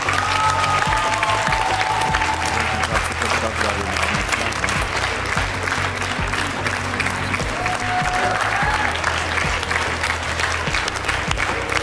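Audience applause fills a TV talent-show hall during X-Factor Armenia, sustained and dense from start to finish, with a host's voice and a few cheers faintly rising above the clapping.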